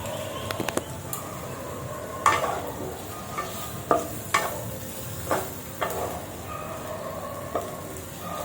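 Bitter gourd frying in a pan gives a low, steady sizzle, broken by several sharp scrapes and clinks of a utensil stirring at irregular intervals, close by with no talk.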